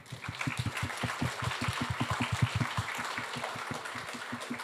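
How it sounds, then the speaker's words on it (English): Sustained applause from a crowd, dense overlapping clapping with sharp individual claps standing out, steady and fairly loud throughout. "y'all give yourself a round of applause for that"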